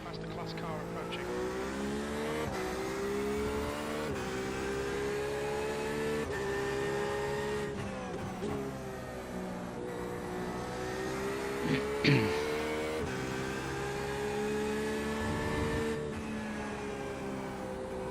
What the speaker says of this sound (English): Car approaching.